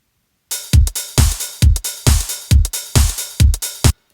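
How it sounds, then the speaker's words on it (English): A punchy electronic drum loop plays alone: booming kicks alternating with crisp snares and hats in a steady, evenly spaced rhythm. "So altogether, the drums should sound like this."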